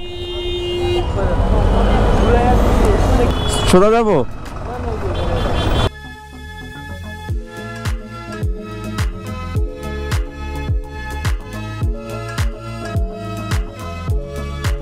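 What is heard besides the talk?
traffic jam on a city road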